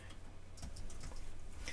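Keys tapping on a computer keyboard while text is typed into Xara Designer Pro X, a quiet, steady patter of small clicks over a low background hum.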